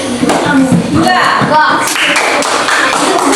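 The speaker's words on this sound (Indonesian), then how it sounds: "Tepuk tangan dulu untuk kelompok 2." Students in a classroom applaud group 2, uneven clapping and taps mixed with voices and chatter, fairly close and loud.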